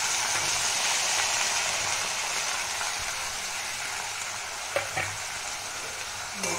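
Onions fry in ghee with a loud, dense, hissing sizzle that stays constant, with a couple of soft stirring knocks toward the end and no talking.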